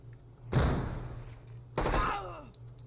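Two sharp, loud frag grenade blasts in the Door Kickers 2 tactical shooter during a penthouse room-clearing raid, about a second apart, each decaying into a rumbling tail, with nothing between them.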